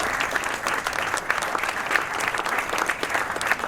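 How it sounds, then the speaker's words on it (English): Audience applause for a female performer at a stage show, a full, continuous round of clapping from a crowd, steady and fairly loud with no talking. "Please give a warm round of applause to the gorgeous and stunningly beautiful Lucinda."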